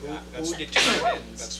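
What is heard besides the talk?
sneeze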